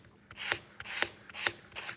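Sandpaper rubbing across a surface before moving up to 320 grit, four distinct rasping strokes at a steady rhythm, close and moderately loud with no talk.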